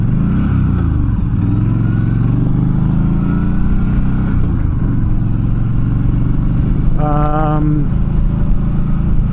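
A 2007 Yamaha V-Star 1300 motorcycle idles with a loud, close, throbbing rumble, its engine revved up once briefly near the end before settling back.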